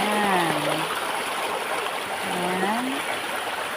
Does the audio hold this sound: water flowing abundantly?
yes